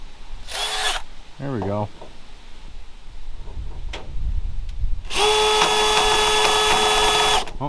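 Power drill in a 1971 Buick Skylark GS trunk, drilling out spot welds in car sheet metal: short loud whining bursts early on, then a sustained, steady high-speed whine near the end, with someone talking in between.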